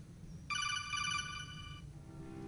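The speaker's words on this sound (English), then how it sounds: "Phone ringing." In the Vampyr video game, a phone rings as one electronic ringtone burst that starts suddenly and lasts about a second and a half, faint over a low background hum.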